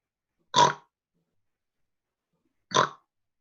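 A person imitates a pig with two short, nasal oinks about two seconds apart, close and clear against a silent background during a game night.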